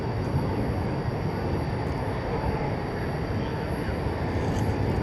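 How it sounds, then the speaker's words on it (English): Airbus A350-900 airliner arriving at DFW Airport at night, a loud, steady broadband jet roar rumbling without a break, heard from close by. "So an Airbus A350-900 coming over to see us"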